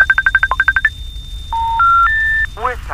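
Telephone dialing tones while placing a call: a rapid run of short beeps, then a few longer steady tones stepping up in pitch, clear and close.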